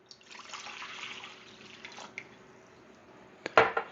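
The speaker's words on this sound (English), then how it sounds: "we're going to use 2 cups of lukewarm water" Two cups of lukewarm water poured for pita dough give a soft, steady trickling hiss that fades, then end in a brief sharper splash; quiet and close, with no talking.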